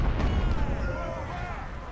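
Massed musket and artillery fire from an American Civil War battle at Bull Run in the strategy game Ultimate General: Civil War, a steady dense rumble of distant volleys with a voice talking over it.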